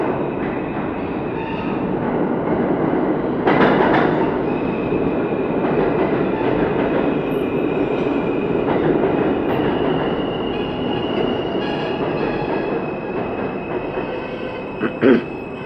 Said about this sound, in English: now we're seeing R160 F train via the C line going towards Manhattan